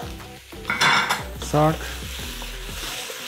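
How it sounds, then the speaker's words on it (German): Zucchini, mushrooms and cherry tomatoes frying in a pot for a vegan one-pot pasta, with a steady sizzle, a spoon scraping and stirring, and pans clattering, while a voice speaks briefly. "Braten das einmal kurz mit."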